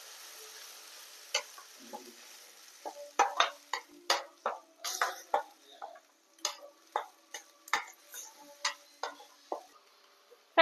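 Ground masala paste being stirred and fried in a pan for duck curry: a rhythmic series of sharp spoon scrapes and knocks over a soft sizzle, with no talking.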